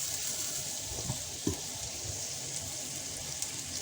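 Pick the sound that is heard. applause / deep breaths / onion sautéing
onion sautéing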